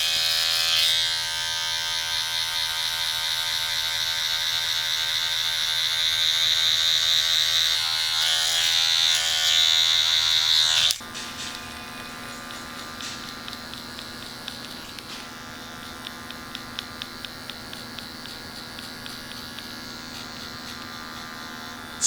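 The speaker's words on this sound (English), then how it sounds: "we're gonna smack the half guard clipper open, and we're gonna get rid of the line on top right here" An electric hair clipper with a half guard snapped open buzzes steadily while trimming the top of a high bald skin fade at a barbershop, a loud close hum that changes pitch partway through, then drops to a quieter buzz with light clicks.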